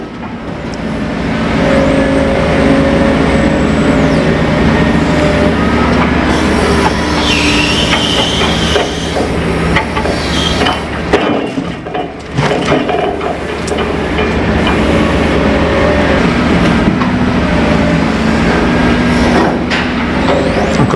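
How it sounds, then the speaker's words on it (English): A log lorry pulls up at a pier on Arran beside a timber barge, its loud, steady engine rumble carrying high brake squeals and clanking throughout, with no talk. "So the log lorry just pulled up."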